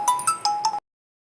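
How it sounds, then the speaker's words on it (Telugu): A phone ringtone plays a quick run of bright electronic notes for under a second, then cuts off into silence. "అప్పుడే సడన్గా ఫోన్ వచ్చేసింది"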